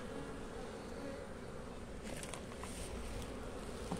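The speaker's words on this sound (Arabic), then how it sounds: "ادي النحل اهوت زي ما انتم شايفين كده اهوت" Honey bees buzz steadily inside an open apiary hive, a dense continuous drone close by with faint handling noises over it and no talk.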